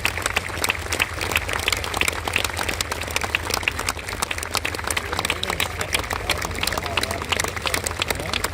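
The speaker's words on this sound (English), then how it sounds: "give a round of applause for all of those who've served our country in the past and the present" Outdoor crowd applauds armed forces veterans at an Armed Forces weekend tank display, steady dense clapping with a low rumble of engine or generator hum beneath and scattered crowd noise throughout.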